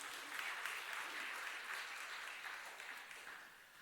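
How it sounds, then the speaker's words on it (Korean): A church congregation claps during a Sunday worship service. The applause is continuous and evenly dense, heard at a fairly distant, soft level, and tapers slightly toward the end. "우리 하나님께 영광의 박수를 올려드립시다"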